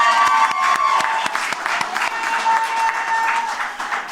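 Applause at a BCom graduation ceremony, a second round for a cum laude graduate: moderately close clapping with some distinct sharp claps, a few cheers and faint background voices, steady throughout.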